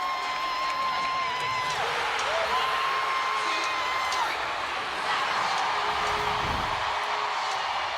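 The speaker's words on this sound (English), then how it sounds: "Look at the crowd reaction at Wintrust." A basketball crowd at Wintrust Arena, at a Las Vegas Aces vs Chicago Sky game, keeps up a steady, dense roar throughout, with a voice audible over the noise.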